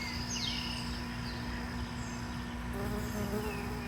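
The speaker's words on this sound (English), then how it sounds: "Odd bee behavior. That's not a flower, little bee." In a summer vegetable garden among squash and melon plants, a bee buzzes with a steady close drone over a constant insect hum, with faint birds in the background.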